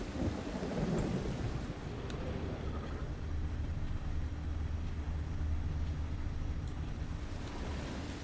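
In the video game The Witcher 3: Wild Hunt, steady rain hisses under a deep rumble of thunder that rolls early on, then a constant low drone of rain and wind continues.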